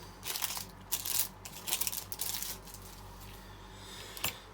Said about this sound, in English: I love chucking all these plastic bags away.